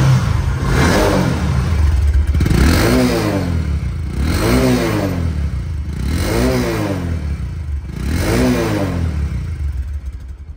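A used Bajaj Discover 125cc motorcycle engine is revved close by in four or five repeated blips, each rising and falling in pitch over a steady clattering idle.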